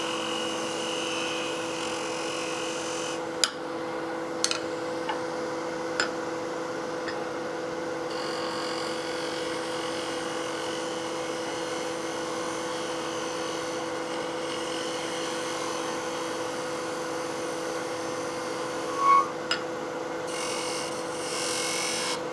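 Steady whirring hum of a wood lathe turning a figured maple box, with light scraping and rasping from a spindle gouge cutting the spinning wood, plus a few sharp ticks along the way.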